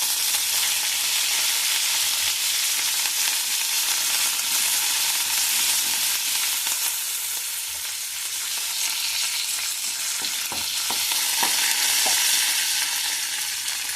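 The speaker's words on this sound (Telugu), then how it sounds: "చిట్టపట్టలాడాక కరివేపాకు వేసుకోవాలి" Curry leaves hit spluttering hot oil for a tempering, giving a loud, steady frying hiss throughout with a burst of sharp crackles and pops near the end.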